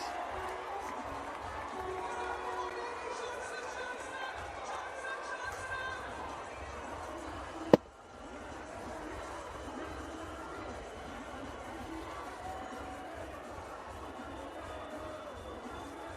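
A cricket stadium crowd at a West Indies v England T20 international keeps up a steady, distant roar and murmur beneath a commentator's voice, broken by one sharp crack midway.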